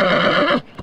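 A racehorse at a Dagestan horse race lets out a loud, close whinny after winning, a sustained shrill neigh that cuts off abruptly, followed by a brief snort and faint movement.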